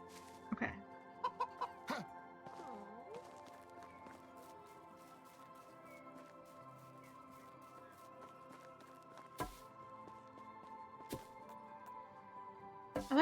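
Clucking hens in the game Medieval Dynasty, a brief cluster of calls at the start and scattered single clucks later, set against a quiet, steady background drone.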